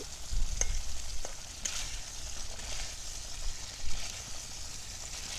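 Eggs sizzle and fry in hot oil within a curry, giving a steady, close crackling hiss broken by a few sharp clicks and scrapes of stirring, with no voices.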